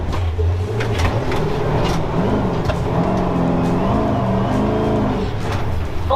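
A car engine revs hard during fast driving on a long trip while low on gas, a loud sustained drone that climbs and dips in pitch, with no talking.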